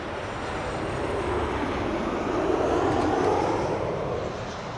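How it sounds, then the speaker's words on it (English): A fixed-wing airplane passes overhead as a steady, broad engine roar that holds at moderate distance, swelling slightly in the middle, with no voices. "we literally waited like 10 minutes for that plane to fly over"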